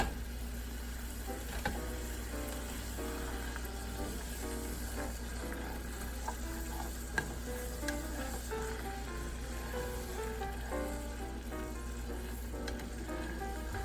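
Scallops sizzling in a pan, a steady moderate sizzle with faint crackles and small spatters running evenly throughout, no talking.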